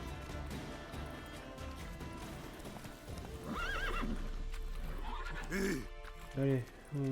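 Horse in The Witcher game galloping with rapid clip-clop hooves, then several sharp, close whinnies near the end, with talk over part of it.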